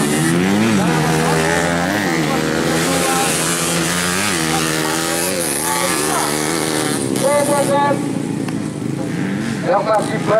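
Motorcycles race on a dirt track at a grasstrack event, engines revving loud and continuous with pitch sweeping up and down as bikes pass, while a commentator talks over the roar throughout.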